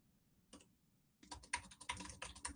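Quiet keystrokes tapping on a computer keyboard as notes are typed, a short burst followed by a pause, then a denser run of clicks, close and fairly soft with no talking.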